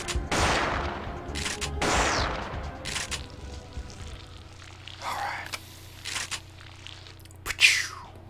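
Shotgun blasts in the video game Parasite Eve II: a few loud, separated booming shots with decaying tails, mixed with other game effects and a faint low hum.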